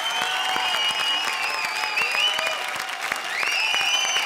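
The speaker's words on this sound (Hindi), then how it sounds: "जोरदार तालियां हमारे 6 के 6 ड्राइवर्स के लिए।" A comedy-show studio audience claps loudly and continuously for six drivers, with bright musical tones and swooping sound-effect lines layered over the steady applause.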